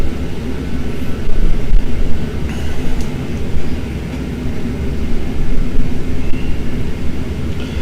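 An Airbus A319 airliner in the Prepar3D flight simulator during initial climb after takeoff, giving a steady loud low engine roar with rumbling texture that carries on without breaks and no speech.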